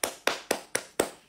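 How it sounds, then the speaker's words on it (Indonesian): Five sharp hand claps in a steady, evenly spaced rhythm, close and fairly soft, with no voices. "Tepuk tangan pemirsa."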